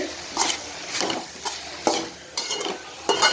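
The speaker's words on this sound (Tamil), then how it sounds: "நல்லா வதங்கட்டும்" Cauliflower with salt, turmeric and chili powder sizzling in a hot pan while a utensil stirs and scrapes, with repeated rhythmic scraping strokes over a steady frying hiss.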